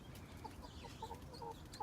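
Chickens cluck in short, soft bursts over a low, steady farmyard murmur, with hens being raised for slaughter and a rooster somewhere among them, though no full crow stands out.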